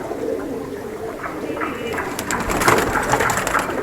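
Several pigeons kept at a house coo in overlapping, rolling calls that swell louder toward the end, with some wing and body shuffling nearby and no speech.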